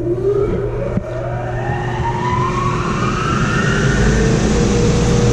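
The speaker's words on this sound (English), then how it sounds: "So the first thing you're going to do is turn on the blower." The blower of a Zerma ZCS shredder granulator combination system starts up in a lab, a loud steady roar with a rising whine climbing in pitch as it spins up, alone without voices.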